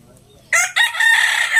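A rooster crows loudly and close by on a farm, one long drawn-out call that rises sharply and holds steady over about a second, following a quiet lead-in with faint background murmur.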